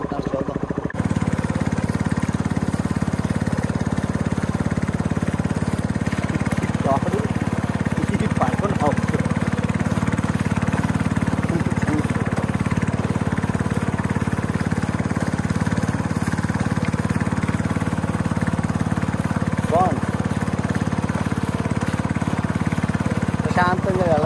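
A boat's engine drones steadily and loudly while travelling on the Amazon River in the Brazilian rainforest at evening, holding an even, continuous hum from start to finish.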